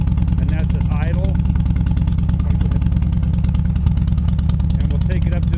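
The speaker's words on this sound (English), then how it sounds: "this is with stock pipes without baffles, and about 102 decibels, and that's at idle" A 2016 Harley-Davidson Dyna with stock exhaust pipes and the baffles removed idles loudly and steadily, a deep continuous rumble heard close up, with a voice talking over it.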